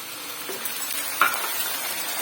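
Onions frying with ginger garlic paste and tomato paste give a steady close sizzle, with one brief clink of a utensil midway.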